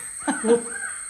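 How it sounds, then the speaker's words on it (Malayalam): Two quick, harsh crow caws close together, rising briefly above a faint, steady background hum. "കാക്ക കരയുന്നത് കേൾക്കാം"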